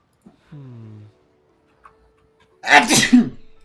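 In a video game, Genshin Impact, a short tonal chirp, then a single loud, sharp sneeze burst close by, with quiet gaps around it.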